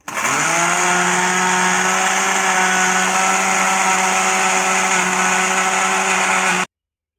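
A blender grinding paper pulp runs at a steady, loud whir for several seconds, then cuts off abruptly.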